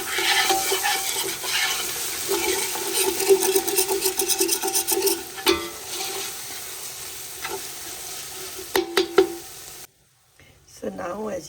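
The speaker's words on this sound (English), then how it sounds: "Now I'm adding the cilantro over here, and I'm mixing it." Cilantro being stirred into chicken seekh kabab masala in a pan over low heat, giving a steady close sizzle and scraping with a few sharper clicks, then a brief pause before quieter stirring resumes.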